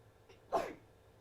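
A single short, fairly faint sneeze bursts out once in a quiet room, a sharp breathy puff with a soft lead-in just before it.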